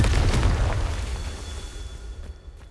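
Confringo fire spell explosion in the video game Hogwarts Legacy on PS5: a single deep booming blast that hits hard at once and rumbles away over a few seconds, with no talking.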